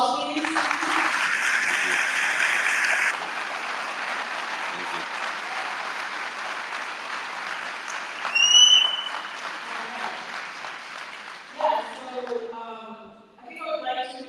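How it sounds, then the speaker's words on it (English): Audience applause after a talk about Gaza at an event in Dearborn, sustained clapping from a crowd that fades down after a few seconds, with voices and scattered claps near the end. "Another round of applause, please."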